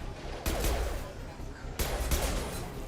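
Sustained gunfire in the sci-fi shooter game Mass Effect 2, two dense bursts of rapid shots around half a second and near two seconds, loud and close against a noisy battle backdrop with faint voices.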